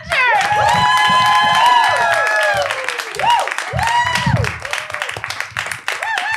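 A comedy club audience claps and cheers as a comedian is welcomed to the stage, loud and sustained at first, then thinning under a host's voice with bursts of whistles and shouts.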